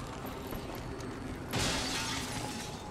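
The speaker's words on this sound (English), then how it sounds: "breaking spots of glass for the fun of it" Glass shatters in the video game XCOM 2 Long War 2, a single sharp burst of breaking panes about halfway through over a steady low game ambience, loud and close with a short tail of falling shards.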